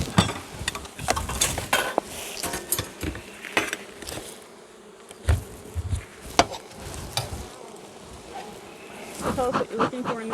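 Honey bees buzz steadily in an opened beehive of swarm-caught bees, with scattered clicks and knocks from handling the hive and people talking nearby.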